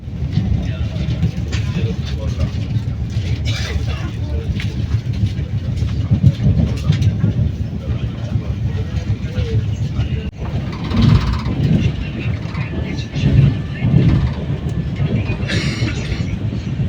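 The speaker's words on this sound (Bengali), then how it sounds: "ট্রেন শুরু হয়েছে, 10 মিনিট হয়েছে" Inside a moving NJP to Howrah passenger train, a constant loud rumble of wheels and carriage runs throughout, with occasional rattles and faint voices in the background.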